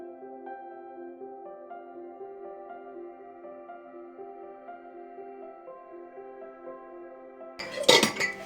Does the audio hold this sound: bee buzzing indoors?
no